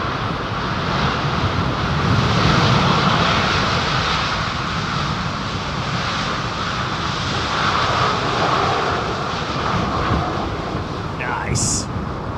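An airliner lands at Heathrow Airport, a steady, loud broadband engine roar with wind rumble lasting the whole stretch, close and unbroken, with faint voices beneath.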